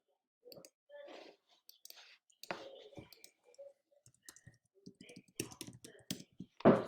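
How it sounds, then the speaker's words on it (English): Fingers tapping calculator keys in quick, uneven bursts of small clicks, close and fairly faint, with a louder knock near the end. "So here's what I'm going to type into the calculator."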